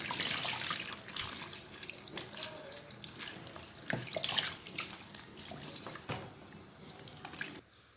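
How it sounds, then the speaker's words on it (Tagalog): Fresh mushrooms washed by hand under a running kitchen tap, a steady close hiss of water with splashes and drips throughout, stopping abruptly near the end. "Hugasan lang natin itong mabuti. Yan, kasi marami ang lupa-lupa. Kaya, kailangan na hugasan ng mabuti."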